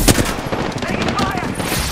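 Rapid automatic gunfire in the video game Apex Legends crackles in quick bursts, loud and close, with a player's voice talking over the shooting.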